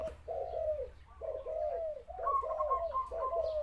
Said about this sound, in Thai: นี่ครับ คูจัดๆเลยนะครับ นกเสียงโตลูกผสมหนึ่งแกมสอง